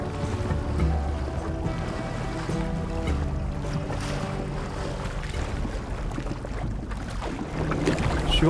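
A small wooden rowboat moves on open water, with gentle lapping and hull knocks against a soft background of wind and waves.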